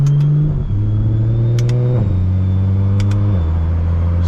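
Loud single-turbo BMW 335is with the resonator removed, its exhaust droning in a deep steady tone that drops with each gear shift as the car pulls along; no talking over it.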